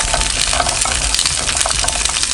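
Frozen steamed dumplings, beef among them, hit hot oil in a pan outdoors, giving a loud continuous sizzle and crackle close up, with occasional clinks and no talk.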